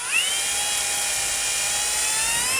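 A power drill whines steadily and loudly while pre-drilling the latch hole for a Kwikset door knob and deadbolt lock set, its high motor tone holding level throughout with no talk.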